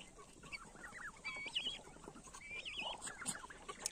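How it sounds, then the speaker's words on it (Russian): Chickens and ducks in a farm poultry yard give scattered clucks and calls, some close and some farther off, over a steady outdoor background with no talking. "Вот такое вот наше птичье царство, вот такое вот наше птичье подворье."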